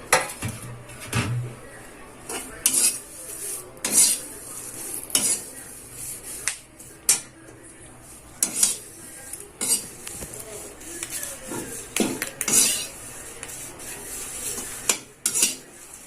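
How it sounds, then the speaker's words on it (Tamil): Curry leaves fry in a pan while a spoon stirs them, metal scraping and knocking against the pan at irregular intervals over a faint background sizzle, close up, with no talking. "கருவேப்பிலை வறுத்தாச்சு."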